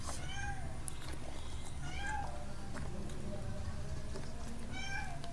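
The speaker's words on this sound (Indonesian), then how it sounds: "Maaf ya guys ya, kita ada kucing guys" A pet cat meows several times in rising, drawn-out calls spread across the moment, close by, over a steady low background hum and some faint talk during a home mukbang meal.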